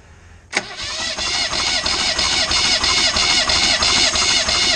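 BMW M10 2.1-litre four-cylinder engine cranking over on the starter for a compression test at full throttle, a sudden start followed by a steady, loud, rhythmic churning that holds evenly to the end.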